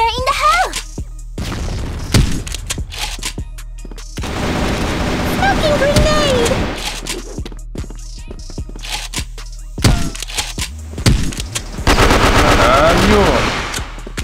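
Rapid bursts of gunfire and sharp shots ring out loudly in clusters in the video game CrossFire, with pauses between volleys and some voices mixed in.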